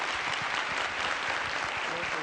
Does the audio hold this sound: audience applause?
yes